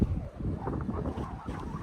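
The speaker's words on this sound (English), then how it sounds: "You hear that wind?" Strong wind at a lakeside campsite at Lake Camanche buffets the microphone in steady, loud gusts, a low rumbling roar with no talking.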